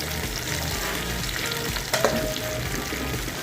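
Malunggay (moringa) flowers stirred in a pan while cooking, heard as a steady close frying sizzle with a light scrape of the utensil partway through and no voices.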